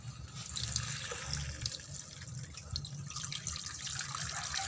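Water streams steadily from a tap or pitcher into a cooking pan holding a whole chicken, a continuous splashing, gurgling pour heard close up with no talking.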